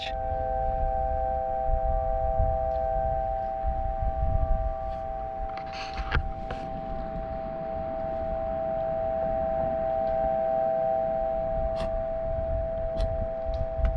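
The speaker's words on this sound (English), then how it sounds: "The wind's blowing the strings and it's resonating every string, so it sounds godly" Wind thrums through taut strings outdoors at a camp, setting them resonating in steady sustained tones that hum continuously over a gusty breeze, with a few faint clicks.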